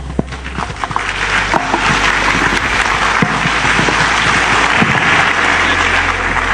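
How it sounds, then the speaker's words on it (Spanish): Sustained applause from a conference audience in a hall, dense and steady clapping that builds within the first second and holds loud throughout, with no talk over it. "le damos un fuerte aplauso nuevamente a los doctores"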